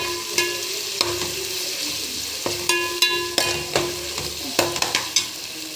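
Pan of oil and turmeric being stirred while frying before half a kilo of chicken goes in for a gongura chicken biryani: steady sizzle with repeated sharp scrapes and taps of a spoon against the pan, fairly close, no talk.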